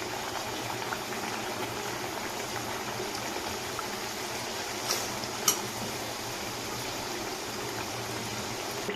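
Papri crisps deep-frying in hot oil, a steady broad bubbling hiss that holds evenly throughout, with two brief clicks around the middle and no voices.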